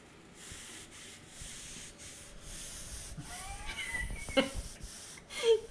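Cloth rubbing against an object to clean and shine it, a soft steady scrubbing texture with a few sharp squeaks near the end, heard close up without speech.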